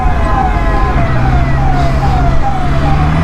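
An ambulance siren wails loud and close on an Indian road during a motorcycle ride on a Honda CBR650R, its repeated falling tones sweeping over steady traffic and engine rumble.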